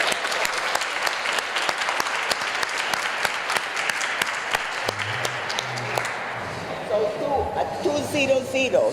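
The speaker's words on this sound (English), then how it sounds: "let's give an applause to Kyle that organized this whole thing" A crowd at Queen's Park Day applauds Kyle, the organizer, with many sharp distinct claps close by that thin out after about six seconds, when talking voices take over.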